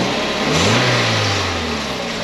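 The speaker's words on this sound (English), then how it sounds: "we're gonna go ahead and give you guys a sound clip of the stock exhaust first" Toyota MR-S on its stock exhaust revving once, the engine note rising quickly then falling back toward idle, close and fairly loud with no talking.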